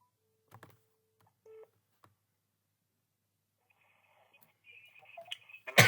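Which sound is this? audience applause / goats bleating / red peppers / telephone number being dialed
telephone number being dialed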